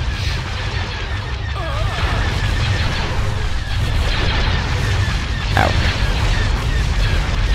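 Bombers bombing a hangar in the video game Empire at War produce a continuous, loud wall of rumbling explosions and booms with no letup, while a voice speaks briefly.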